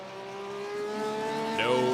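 A Porsche 911 RSR race car in iRacing at Silverstone holds a steady, droning engine note that rises slightly, with a short tire squeal near the end, under faint talk.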